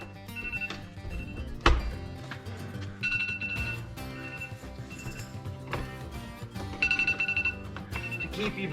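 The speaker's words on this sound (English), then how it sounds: "that is my alarm to go pick up my kids from the school bus." An alarm rings out in a workshop, a repeating electronic tone pattern that stays fairly loud and close, pulsing in bursts with a sharp thunk partway through, no voices.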